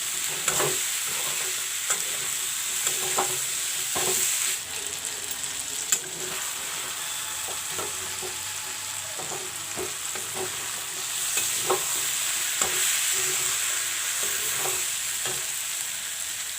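Masalas with chili powder fry with vegetables in a pan, a continuous close sizzle broken by repeated sharp scrapes and taps of a spoon stirring, with no voices.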